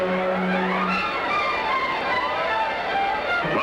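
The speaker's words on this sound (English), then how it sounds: "Roger Ward has a smooth ride around the track" A 1960 Indianapolis 500 race car circling the track in qualifying, its engine a steady continuous roar with a passing whine and no pauses, heard alone at fairly close range.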